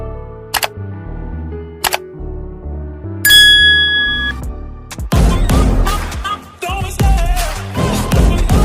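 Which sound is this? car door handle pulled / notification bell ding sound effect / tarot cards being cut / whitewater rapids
notification bell ding sound effect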